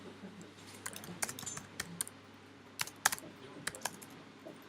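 A computer keyboard clicks away with scattered key taps, irregular bursts of typing with short pauses in between, fairly quiet and close, no one talking.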